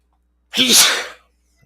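A single loud, close sneeze bursts out after a moment of silence, with a sharp intake and a breathy release that fades quickly.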